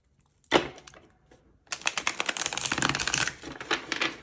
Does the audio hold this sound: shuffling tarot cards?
yes